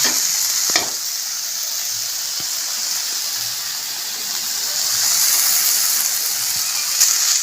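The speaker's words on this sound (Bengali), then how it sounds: "বন্ধুরা শাপলা ভাজা হয়ে গেছে, নামিয়ে নেব" Steady, even sizzling of water lily stems frying in oil, constant hiss throughout with a few faint clicks, no voices.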